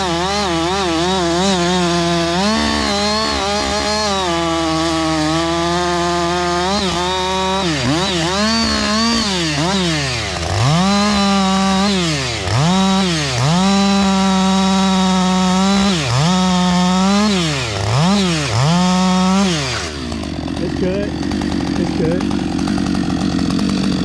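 A Husqvarna-style 562 chainsaw with a 20-inch bar and full-chisel, full-comp chain cuts wood up close, its loud engine rising and falling through repeated revs and bogs before cutting off near the end.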